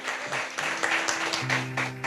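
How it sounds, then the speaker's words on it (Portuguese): A church congregation claps for a newly married couple, scattered hand claps under a sustained organ-like tone and some voices, moderately quiet in a large room. "Salva de palmas para o novo casal"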